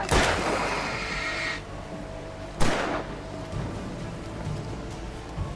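Gunfire in the Alan Wake video game: a sharp loud shot with a ringing tail, then a second blast a couple of seconds later, followed by quieter game ambience.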